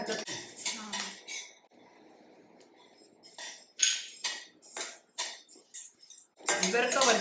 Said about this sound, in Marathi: जरा चटचट भाजायला लागलेत ना हो आता भाजतच